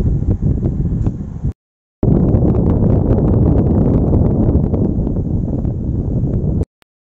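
Air from a home air conditioner fan blowing straight onto a microphone, a loud steady rumbling whoosh that drops out briefly near the start and cuts off just before the end.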